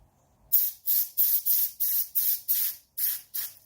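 A can of R134 refrigerant purging air while charging a 1985 Mercedes 300TD air conditioner: a series of about seven close, loud, rhythmic bursts of spray hissing, each roughly a third of a second, with brief gaps and no talk.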